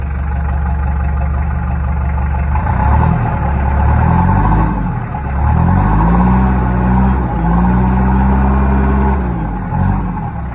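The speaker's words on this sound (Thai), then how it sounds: "เดี๋ยวผมพาฟังเสียงเสียงเครื่องยนต์นะครับผม" A used New Holland tractor from around 2016–2017 runs its engine close by, a deep steady idle that swells into several revs and settles back, loud and alone without talk.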